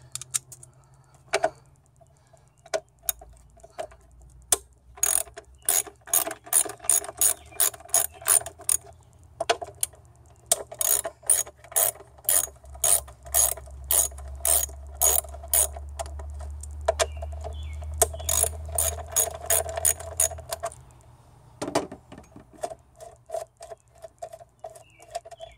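Mini ratchet with a 10mm socket removing bolts on a 2010 Mitsubishi Lancer, giving rapid runs of quiet clicking with pauses between them over a low background hum.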